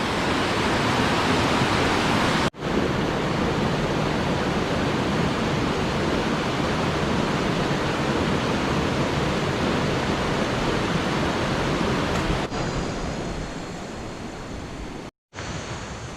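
A loud, steady rush of flowing water from a nearby stream below Khlong Phaibun waterfall, Thailand, constant and unbroken throughout, with no voices.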